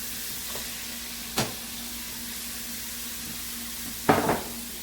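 Cashew chicken being stirred in a frying pan: a faint steady sizzle with a steady hum beneath, broken by a brief scrape near the start and a louder clatter of utensil against pan toward the end.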